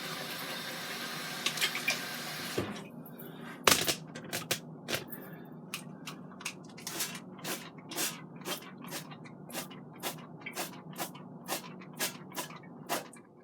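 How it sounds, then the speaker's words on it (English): Olive oil spritzed from an Evo oil sprayer over battered catfish, a run of short, sharp hissing sprays in an irregular rhythm, close and distinct after a brief burst of background noise. "I'll be using my olive oil. It's in my Evo oil sprayer."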